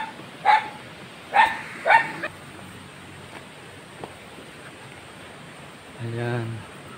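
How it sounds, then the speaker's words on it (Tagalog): Several dogs bark outdoors, with three sharp yelps close together followed after a pause by a longer, harsher bark, set against steady ambient hiss. "maraming mga aso."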